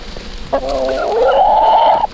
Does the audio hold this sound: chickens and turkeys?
yes